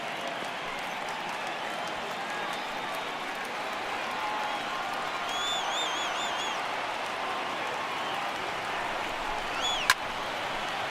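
A stadium crowd roars steadily in an MLB The Show 18 baseball game, Red Sox at Baltimore, a broad sustained cheer with scattered whistles and one sharp crack near the end.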